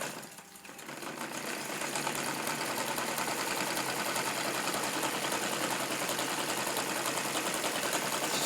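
Model radial engine revved higher, a dense, fast buzzing drone that rises in level over the first two seconds and then holds steady and loud, with no talk.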